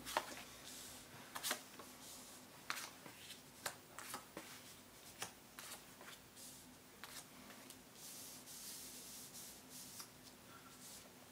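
A deck of oracle cards is shuffled by hand, giving soft, quiet riffling and rubbing with scattered sharp card snaps at an irregular rhythm, close by and with no talking.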